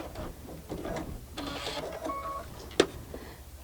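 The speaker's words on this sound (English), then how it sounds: "So I'm sewing the V, pivot at the bottom" A sewing machine stitching a V-shaped seam, a short run of quick mechanical whirring and clicking, close and moderately quiet, ending with a sharp tap.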